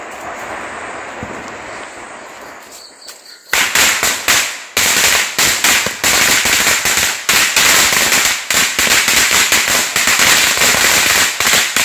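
Firecrackers burst during a Vishu celebration at home: after a quieter stretch, a dense run of loud, sharp cracks and bangs rattles on rapidly and continuously, close and without speech.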